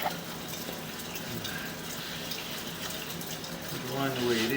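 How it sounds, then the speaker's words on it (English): Water running through a house plumbing line, a soft continuous flowing hiss that swells slightly toward the end, with faint speech in the background. "should have the water show up here soon. It's running all the way down through here."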